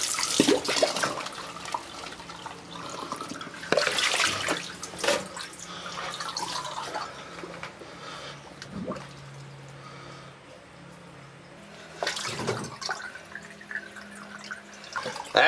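Water rushes out through a pipe just cleared of a blockage at a dug bunker under repair, a steady trickling and splashing flow with a few louder gushing bursts, fairly close.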